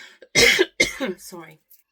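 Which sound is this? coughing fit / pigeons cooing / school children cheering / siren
coughing fit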